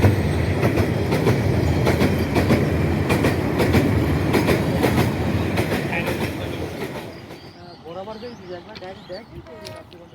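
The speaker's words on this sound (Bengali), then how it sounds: "ট্রেন যাচ্ছে এখন।" A train rolls past close by on a railway line, a loud rumble with rhythmic clickety-clack of wheels that fades toward the end as voices talk over the tail.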